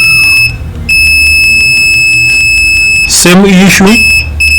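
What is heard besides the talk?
multimeter continuity beep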